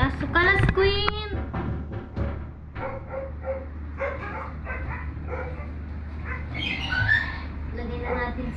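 In a home kitchen while cupcakes are being made, a dog gives several sharp barks and yips, loud at first and then repeating more softly, with voices talking in the background throughout.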